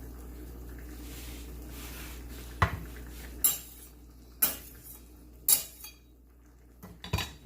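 Chicken curry stirred in a pot, with a few distinct clanks of a utensil against the pot rim spaced a second or so apart over a quiet background.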